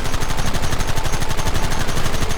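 Rapid gunfire from the video game Red Dead Redemption on PS5/PS4: a loud, dense string of quick shots, nearly continuous like a machine gun, with no voices.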